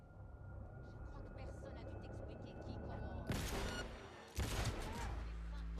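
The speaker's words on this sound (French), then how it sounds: "J'ai entendu des coups de feu" Bursts of rapid gunfire in a video game erupt twice over a steady droning background, loud and close, with a brief pause between the volleys.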